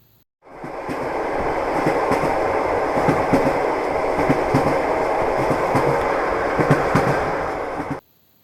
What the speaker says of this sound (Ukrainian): Це потяг.